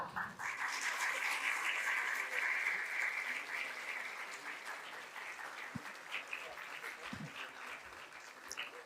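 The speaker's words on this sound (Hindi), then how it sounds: "तालियां धीरे क्यों हो रही हैं?" Steady audience applause fills a government appointment-letter distribution ceremony in Jharkhand, dense clapping throughout with a slight fade toward the end and a few louder claps near the close.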